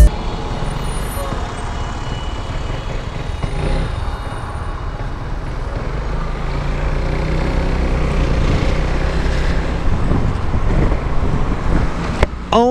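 A Piaggio MP3 500 LT Sport three-wheeled scooter being ridden gives a low, steady engine and road rumble with wind noise, building slightly over time, with a brief sharp burst near the end and no clear talk.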